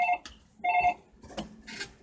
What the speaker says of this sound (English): The phone's still ringing.